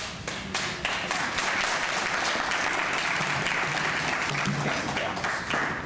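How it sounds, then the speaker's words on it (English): A full audience at a Fairfield community forum claps heartily, a thick, even wash of applause with a few sharper individual claps standing out, continuing unbroken from start to end. "Can we just give them both another hand, a round of applause?"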